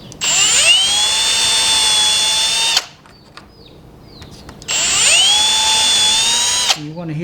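A power drill bores pilot holes into wooden trellis boards in two long bursts, whining up to a high steady pitch and holding it loud and close, with a quieter gap of small knocks and handling between them.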